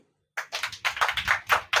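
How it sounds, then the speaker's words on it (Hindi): A church congregation at a ministry teaching claps hands in rhythm, a run of close, sharp claps beginning after a brief silence. "come on Tali"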